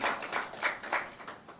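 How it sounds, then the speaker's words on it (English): Audience applause at a TEF-Deloitte reception event, a few soft, distinct claps spaced apart, faint and somewhat distant. "I think we need to give a good round of applause for each and every one of us in the room"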